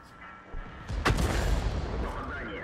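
A single sharp artillery blast from an M53/M55 self-propelled gun in World of Tanks booms out, followed by a rumbling tail and ongoing game noise.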